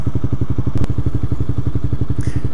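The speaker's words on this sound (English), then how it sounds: "It's a 2011 CBR 250R, and There's a few mods to it." A 2011 Honda CBR 250R motorcycle, engine running nearby with a loud, steady, evenly pulsing idle thump throughout, plus a brief clatter partway through.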